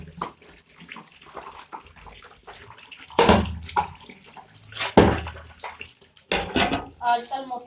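Clothes washed by hand at home bring loud, irregular bursts of water splashing and sloshing between quieter stretches, with voices heard in the background.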